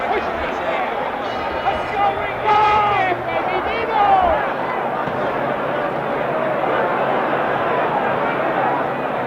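A boxing crowd roars in round 10 of Muhammad Ali vs Oscar Bonavena, a dense, steady wall of cheering and shouting voices that swells briefly at times.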